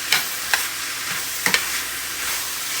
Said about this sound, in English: go ahead and dump the mushrooms in. Stir them around a bit.